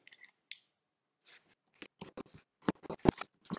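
Scissors snipping through a paper plate while cutting out clock pieces, a series of crisp close cuts in irregular bursts, sparse at first and then quicker and louder toward the end.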